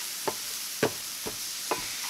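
Vegetables sautéing in a pan, a soft, low-level sizzle under four distinct clinks and scrapes of a utensil spaced through the moment, with no talking.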